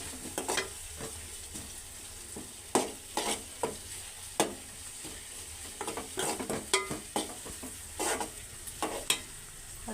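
Onions sizzle in a pan while a utensil stirs them, giving repeated sharp scrapes and clacks in an uneven rhythm over a faint steady frying hiss.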